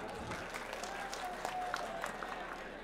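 Applause from an audience at a farmers' protest rally, a steady wash of many hands clapping at moderate distance with some crowd noise mixed in.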